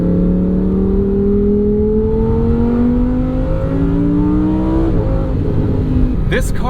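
Lamborghini Huracan Sterrato, a 2023 off-road supercar, accelerating hard, its engine note climbing steadily through the gears with brief shift breaks, loud and close throughout, with a sharp clatter near the end.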